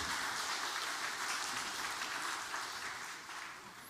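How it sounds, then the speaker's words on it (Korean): Church congregation applauding together during a Sunday worship service, a steady broadband wash of clapping throughout that tapers slightly toward the end, with no voices over it. "박수 한번 해주시죠"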